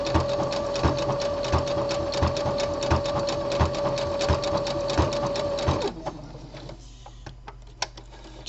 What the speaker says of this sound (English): It takes some getting used to sewing with this stitch because the fabric goes forward and back